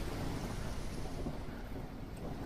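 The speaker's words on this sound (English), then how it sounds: "I don't think you can hear it during the thunderstorm, though." A steady, dense wash of storm noise, rain and low rumbling thunder in the game The Isle Evrima, loud and continuous with no voices.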